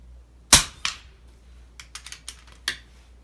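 Gunshots from a rifle fired from a bench, one sharp loud report followed by a fainter echo, then a scatter of small clicks and a second, softer shot.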